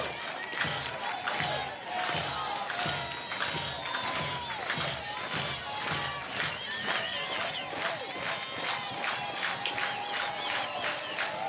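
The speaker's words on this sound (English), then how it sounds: "This capacity crowd will let you know." A capacity crowd at a college softball game between Alabama and Auburn roars with sustained cheering, shouting and applause, dense and continuous across the whole stretch, with an announcer's voice intermittently audible over the noise.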